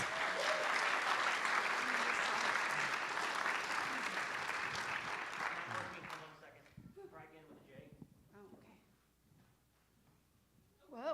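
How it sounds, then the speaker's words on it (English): Audience at a science talk breaks into loud, steady applause for about six seconds, then the clapping dies away and scattered voices speak nearby in a quieter room. "So give a round of applause for David Ricks."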